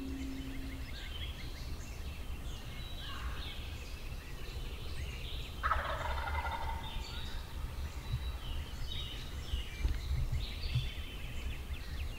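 A distant wild turkey gobble rings out once, faint and far off, over a steady outdoor background in hardwood hill country at sunrise.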